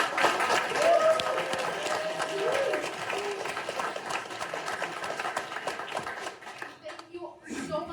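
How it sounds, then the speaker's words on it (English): A camp crowd gives staff a round of clapping and cheering, with scattered hands and voices mixed together at moderate distance. The applause thins out toward the end as voices carry on underneath. "Give them a huge round of applause."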